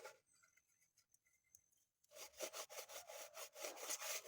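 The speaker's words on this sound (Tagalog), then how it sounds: "ulit-ulitin lang natin ikuskus ito" Scrubbing an item with Joy dish soap: rapid, steady back-and-forth rubbing strokes, loud and close, starting after a quiet opening with faint scraping.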